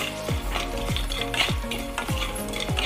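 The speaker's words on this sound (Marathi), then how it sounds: "सगळे मसाले आपण कच्चेच भाजणार आहोत" Spices dry-roasting in a pan without oil while being stirred: a rhythmic series of scraping strokes, about one every half second, over a faint steady crackle, close and without talk.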